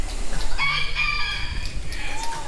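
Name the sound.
rooster crowing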